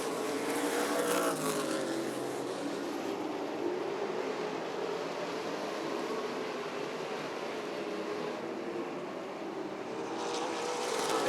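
NASCAR late model race cars run single file around Rockford Speedway, a continuous distant engine roar that rises and falls as the pack circles, swelling louder near the end, with no voices over it.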